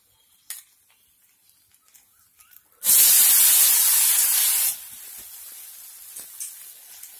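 Oil poured around small ragi (finger millet) flour dosas on a hot pan sets off a sudden loud hissing sizzle that lasts about two seconds. It then falls to a quieter crackle with scattered small clicks.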